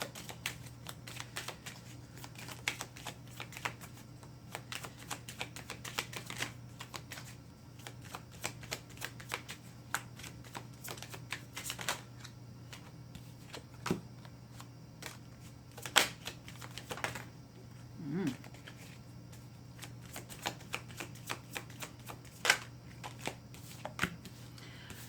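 Golden Tarot of Renaissance cards are shuffled and handled slowly, producing irregular soft clicks and papery taps scattered over a low steady hum, quiet and close.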